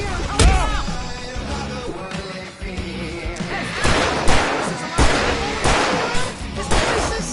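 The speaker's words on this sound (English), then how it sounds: "I can set off more of the fireworks from here!" Fireworks in the Alan Wake video game bang and crackle in repeated loud bursts with whistling trails, mixed with shouting voices and game action.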